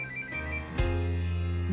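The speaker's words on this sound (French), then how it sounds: "Daniel, téléphone." A telephone rings alone in a quiet room, a steady electronic tone that swells and holds with a faint hum beneath, no voices over it.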